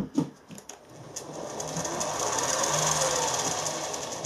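A 626 milling machine runs at high speed, giving a steady whirring hum with a rattling belt noise. A few clunks come first, then the sound grows and holds at a moderate level.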